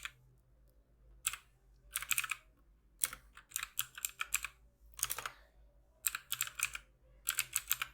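Fingers typing on a computer keyboard in short bursts of quick, soft clicking separated by pauses, close and quiet with no voices.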